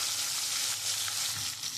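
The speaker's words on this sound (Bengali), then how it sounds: "আমি একটু লাল লাল করে আমি পেঁয়াজটা ভাজবো" Sliced onions frying in oil left over from frying potatoes, a loud continuous sizzle that stays even and close throughout, with no talking.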